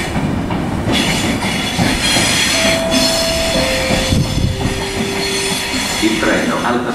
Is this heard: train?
yes